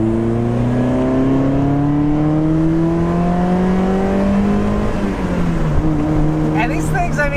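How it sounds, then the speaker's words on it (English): A 2001 Mazda MX-5 Miata NB2 pulls hard in second gear, its engine note climbing steadily and loud from start to finish, then dropping briefly as it shifts near the end. "That was a second gear pull and it still was leisurely"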